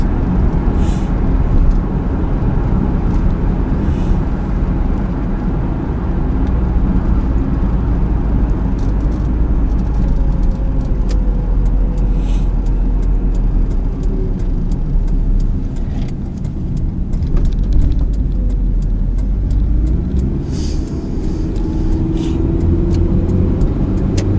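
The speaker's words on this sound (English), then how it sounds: "On the working day on the LDP, this kind of traffic is just it's just such an extraordinary sight." Heavy working-day traffic streams along the LDP highway in a constant loud rumble of cars, with buses and the odd air-brake hiss passing close, and no talking throughout.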